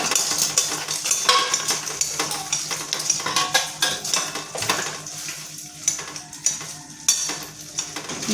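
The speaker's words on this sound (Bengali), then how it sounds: "এগ রোল রান্না হচ্ছে" An egg roll cooking in a pan, with a steady sizzle of frying under repeated scraping and stirring of a utensil against the metal. It sounds close and fairly loud, with no talking.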